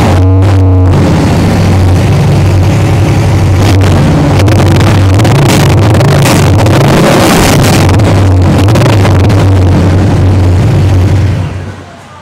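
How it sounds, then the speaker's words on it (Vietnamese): A 2022 Triumph Speedmaster motorcycle fitted with a TBR slip-on exhaust idles with a steady, deep low rumble, close and loud with brief throttle blips, fading out at the end. "Mới nổ máy chiếc Triumph mà nó nhẹ nhàng, nó lịch sự"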